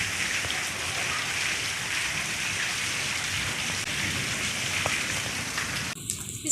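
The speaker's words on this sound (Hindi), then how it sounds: "इतना प्यारा मौसम हुआ है और बारिश को हम इंजॉय कर रहे हैं।" Steady rain falls outside a newly built house during the first rain of the season, a continuous even hiss of drops on surfaces, with a few brief clatters near the end.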